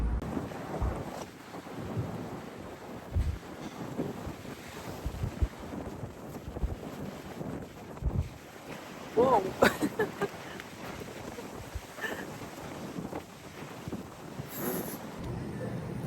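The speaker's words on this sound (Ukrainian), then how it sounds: "Як я не хотіла вам знімати зі звуками вулиці, але вітер шалений" Heavy wind buffets the microphone in irregular rumbling gusts throughout on a San Francisco street, with a few faint background sounds poking through.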